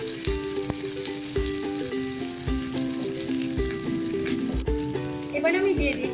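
Chopped garlic, ginger and square-cut capsicum sizzle over high flame while a spatula knocks and scrapes rhythmically against the pan, under background music.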